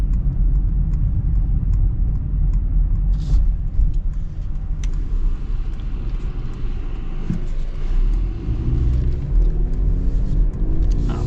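2025 Mercedes GLC 300 driving in sport mode, with a steady low engine and road rumble heard from inside the cabin, continuous and fairly loud, with faint ticks and shifts in tone as it moves.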